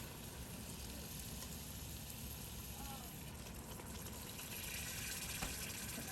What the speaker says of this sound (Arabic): هسه راح أضيف له التشريب